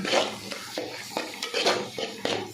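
Three tablespoons of chili powder being stirred into masala for kara kuzhambu in a pan over a low flame: rhythmic scraping strokes about twice a second, close and clear, with no voices.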